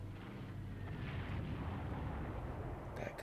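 A bomb bursts on a battleship in the Battlefield Europe video game. A faint, distant boom and rumble roll on for a few seconds, ending in a couple of small crackles.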